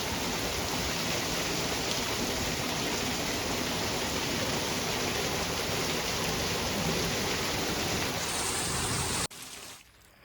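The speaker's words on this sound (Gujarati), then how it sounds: "એકદમ મસ્ત વરસાદ પડે છે" Heavy rain pours steadily on a village in Junagadh, a dense, loud, continuous hiss that holds for about nine seconds before cutting off abruptly into quieter background.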